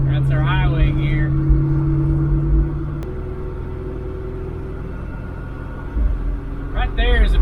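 A 1968 Ford Mustang GT engine drones steadily in fourth gear at about 50 mph, giving a continuous low cabin rumble, while someone talks over it.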